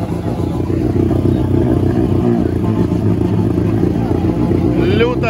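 A UAZ off-road vehicle with wheels turned and locked drives off on an off-road course, its engine a steady, loud, rumbling drone throughout with clattering over it and voices talking in the background.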